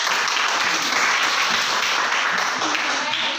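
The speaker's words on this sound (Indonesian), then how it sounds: "Ulang tepuk tangan yang semangat" Repeated, enthusiastic applause from a class of students for a presenting group: loud, dense, continuous clapping close by that stays even throughout and eases off only at the very end.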